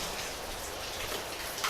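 Heavy rain pours down outside an office beside a workshop holding air compressors, a steady, dense broadband hiss of drops on surfaces that fills the whole clip, with no talking.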